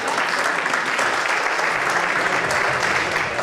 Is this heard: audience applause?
yes